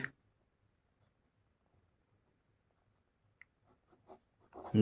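A pen writes on paper during a class 10 maths lesson, faint, scattered scratches after a long near-silent pause, growing denser at the end.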